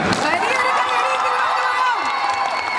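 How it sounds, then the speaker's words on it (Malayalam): A large audience at a stage event with the actor Dileep breaks into steady, dense applause and cheering that fills the whole moment at close range, with shouts mixed into the clapping. "അതുകൊണ്ട് വലിയൊരു കയ്യടി ഇവിടുന്ന് തരണം"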